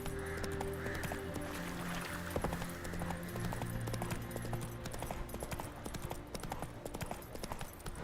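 Roach the horse gallops in the Witcher 3 video game, a rapid, steady clip-clop of hooves over a busy background of ambient game sound, close and continuous for eight seconds.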